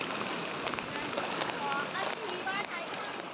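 Continuous heavy monsoon rain in Himachal Pradesh pours down as a dense, unbroken hiss of drops striking surfaces, loud and steady throughout, with a faint voice barely audible beneath it.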